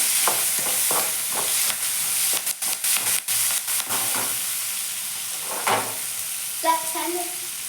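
Onion and curry leaves sputtering in hot oil in a pan, with a steady sizzling hiss broken by bursts of sharp crackling pops, close by, ending in a few clinking tones.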